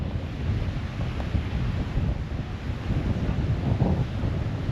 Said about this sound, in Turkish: Şu an sesi geliyorsa eğer çok fena bir rüzgar var.